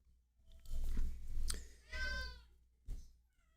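Several cats meowing for lunch, a handful of close, drawn-out cries in quick succession, the longest one wavering, then a short final call.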